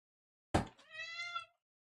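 A house cat gives one drawn-out meow, starting with a sharp onset and fading after about a second, close and clear in an otherwise quiet room.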